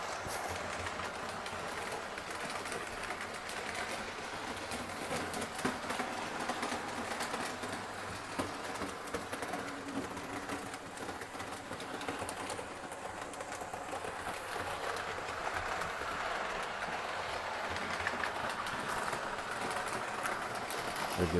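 An Atlas O-gauge model train runs steadily around a garage layout, its wheels clicking and rumbling in an even, continuous drone that carries on unbroken for the whole stretch.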